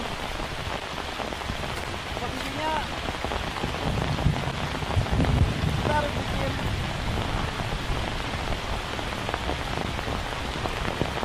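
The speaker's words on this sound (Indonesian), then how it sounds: "hujan kembali turun" Steady rain falls on bamboo leaves in a forest during bad weather, a dense continuous hiss of drops with brief spatters, and a person speaks quietly under it.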